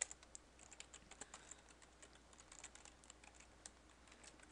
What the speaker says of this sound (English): So let's type in the output for that.